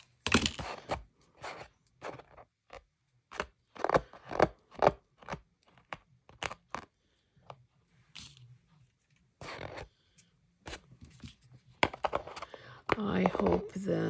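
Scissors trimming sheer fabric from repurposed scarves or tops into covers and pouches, heard as a series of short, crisp snips and rustles at close range, with quiet pauses and some faint handling noise between cuts.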